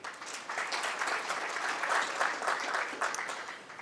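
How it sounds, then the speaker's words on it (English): An audience at a 2018 panel discussion session in Pretoria applauds. The clapping is steady and moderately faint, and it continues evenly for a few seconds with no other sound over it. "That deserves a round of applause, I think."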